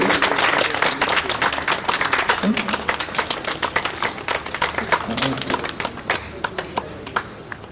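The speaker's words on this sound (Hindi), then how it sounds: "आप लोग तालियों से जोरदार स्वागत करते रहिए।" Audience at a Professor Satyamurti memorial honour ceremony in Kanpur applauds loudly with dense, sustained clapping that thins toward the end, with a voice speaking over it.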